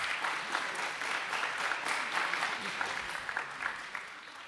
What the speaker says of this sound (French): merci déjà, on applaudit